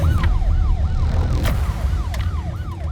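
An ambulance siren wails in a rapid repeating up-down sweep, loud and nearby over low traffic rumble, with no speech.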